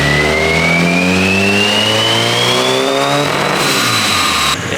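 A turbocharged Honda K-series engine in a Nissan S14 pulls hard on a dyno, its loud, steady roar climbing in pitch for about three seconds before a shift in tone and an abrupt drop near the end.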